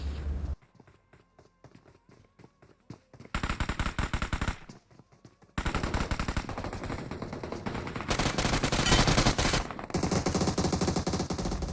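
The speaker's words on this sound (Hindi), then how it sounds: "मैं उस पर फायर करता हूँ" Gunfire in a solo ranked battle-royale game comes as rapid automatic bursts, loud and dense in several stretches, separated by quieter gaps with footstep-like clatter.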